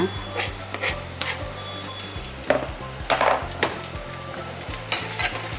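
Green chillies frying in a pan while a chicken cheese paratha is cooked, a steady close sizzle broken by repeated scrapes and clinks of a spatula against the pan, with a low hum underneath.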